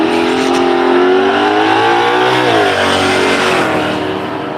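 Street Machine Drag Challenge drag cars launching down the strip, a loud, continuous high-revving engine roar with rising and shifting pitch, close and dominant throughout.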